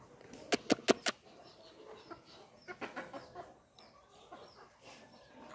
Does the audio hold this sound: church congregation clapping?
no